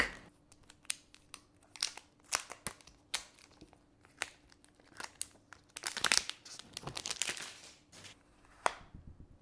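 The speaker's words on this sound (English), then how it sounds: "it's time to remove the plastic" Plastic film peeled and crinkled off a new Samsung Galaxy A53 5G smartphone, with close, irregular crackles and rustles building to a denser flurry of crinkling before fading.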